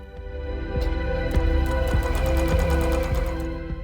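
A Juki computer sewing machine stitching steadily, its motor whirring with a fast rhythmic needle pulse that holds at a constant level with no talk.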